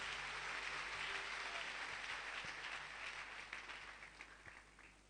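Church congregation applauding, a steady broad wash of clapping that holds loud and even, then thins and fades slightly toward the end, with no talk over it.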